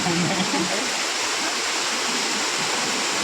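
Vyaghreshwar waterfall in Konkan plunges from a height, a loud continuous roaring rush of white noise filling the whole moment.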